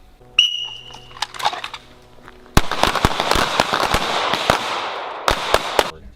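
Handgun shots fired in a shooting class drill at an outdoor range, a series of sharp, loud cracks from several shooters, irregular and overlapping, after a beeping start signal.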